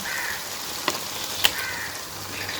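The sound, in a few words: squid added to sizzling tomato gravy in pan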